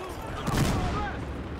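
A Tommy gun in Battlefield Hardline fires in a quick short burst, loud and close, trailing into a reverberant tail.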